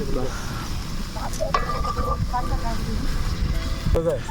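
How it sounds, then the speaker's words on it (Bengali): Steady frying sizzle of onion, garlic and coconut in a pan with occasional stirring clatter, continuous and fairly loud throughout. "পেঁয়াজ রসুন নারিকেলটা কিন্তু বেশ সুন্দর ভাজা হয়ে গেছে"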